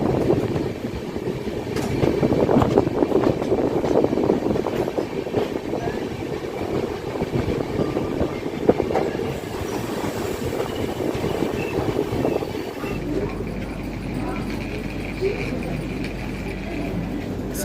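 A passing express train rumbles steadily near the tracks in Kerala-bound rail travel, a dense rolling roar with wheel clatter that shifts in tone midway before easing into a lower hum.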